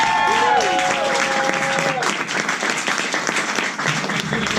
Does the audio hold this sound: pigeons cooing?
no